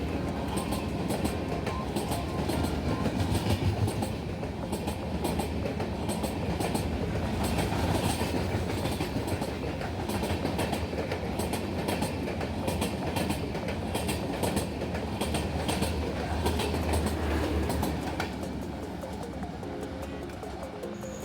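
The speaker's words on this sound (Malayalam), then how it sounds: "നമ്മുടെ Porbandar Kochuveli express Thiruvananthapuram north express അതാണ് ഈ സ്കിപ്പ് ചെയ്യുന്നത്" Porbandar–Kochuveli Express passing through Munroe Island railway station without stopping, a loud continuous rumble of wheels and carriages with rhythmic clickety-clack close by, holding steady throughout.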